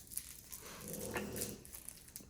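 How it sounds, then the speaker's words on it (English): A puppy whimpers faintly in the background of a quiet room, with a soft, brief whine near the middle and otherwise only low room noise. "Sorry, you guys can probably hear the pup."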